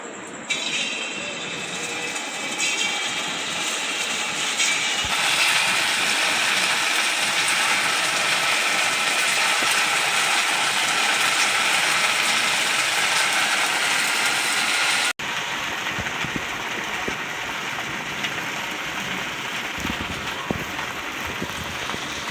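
Leftover-rice batter drops into hot oil in a wok and sets off a loud, steady, bright frying hiss that swells after a few seconds and keeps bubbling, with a few clicks and no talk.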